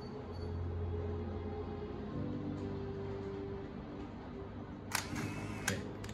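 A Nikon AD2 film camera's self-timer whirs steadily for several seconds, then two sharp mechanical shutter clicks snap close by.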